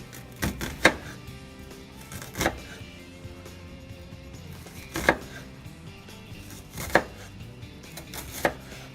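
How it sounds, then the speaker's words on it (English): Knife slicing down through an onion on a board for salsa, several sharp, close cuts at irregular intervals against a quiet background, no talking. "slits or cuts down the center of the onion, however wide you want it"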